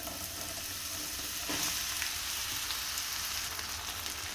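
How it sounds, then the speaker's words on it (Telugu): Ridge gourd pieces fry in two tablespoons of hot oil for a mutton curry, giving a steady, close sizzle and crackle that runs without a break from start to finish, with no voices. "రెండు టేబుల్ స్పూన్స్ ఆయిల్ వేసుకున్న తర్వాత ఆయిల్ హీట్ అయిన తర్వాత బీరకాయ ముక్కల్ని వేసేసుకోవాలి"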